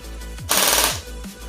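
An M4A1 Gelblaster MK18 Pro Gold gel blaster fires one short full-auto burst, a quick buzzing rattle lasting under half a second between quieter handling moments, close and fairly loud.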